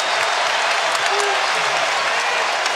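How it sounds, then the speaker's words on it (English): Arena crowd at a Kentucky vs LSU college basketball game roars steadily, a dense, sustained wash of cheering and applause with no breaks. "Here's when his crowd becomes a factor."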